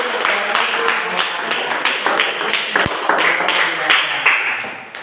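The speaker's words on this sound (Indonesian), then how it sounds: "Oke, tepuk tangan untuk kelompok 2." Classroom of students clapping for a presenting group during an Indonesian-language lesson, a dense patter of many hands that holds steady for several seconds with a few sharper taps standing out.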